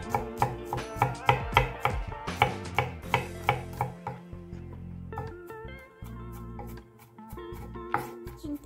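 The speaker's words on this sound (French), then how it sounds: "Hachez l'ail" Garlic chopped with a knife on a board: a steady run of close, crisp knife strikes, quickening then thinning out, with faint clinks and no voices.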